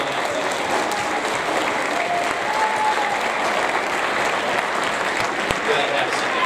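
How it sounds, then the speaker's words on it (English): A class of seventh graders and guests at a school awards event claps in a steady round of applause, close and fairly loud, continuing evenly throughout. "Let's do one more big round of applause for our market period one section."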